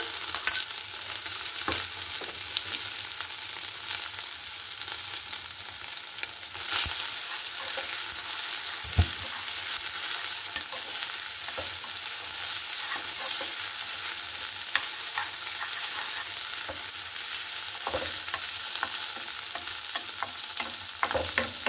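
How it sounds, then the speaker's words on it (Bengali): Bottle gourd greens fry in a pan with garlic and a split green chili, giving a steady, close sizzle with occasional stirring scrapes and knocks; no one speaks. "এখন আমি এটা ভেজে নেব।"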